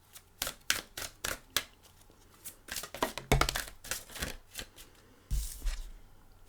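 Tarot cards being shuffled up close, a series of crisp riffling and flapping bursts in uneven rhythm, with short pauses between shuffles and no talking.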